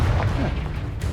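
Confringo blasting curse going off in Hogwarts Legacy, a short booming burst with a rumbling low thud that stays loud for about a second, with no voices over it.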